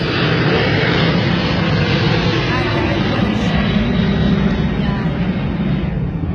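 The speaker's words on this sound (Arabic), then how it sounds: "الطيران شغال، لازم كل شوي طيارة تسلم" An airplane coming in to land near an airport, a loud, continuous engine roar close overhead that holds steady for several seconds and swamps everything else.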